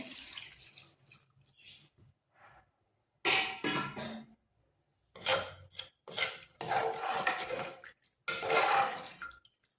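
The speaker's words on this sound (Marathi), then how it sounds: "हे आपलं कोळंबीचंच पाणी होतं, तेच मी ॲड करणार आहे" Prawn stock is tipped into a pot of simmering prawn and potato curry, giving uneven bursts of splashing and pouring separated by quiet gaps.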